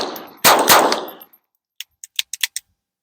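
Taurus TX22 Competition rimfire pistol, with a loud burst of shots at the start followed by a quiet gap and then several light metallic clinks.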